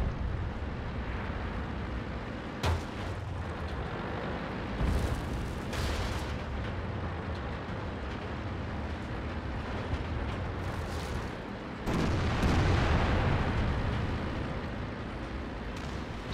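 Tank cannon fire booms out in a World of Tanks battle with a T49 tank destroyer: a few heavy blasts spaced seconds apart, each with a rumbling tail, set against a constant low engine drone.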